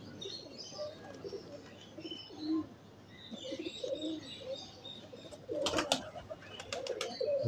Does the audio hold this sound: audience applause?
no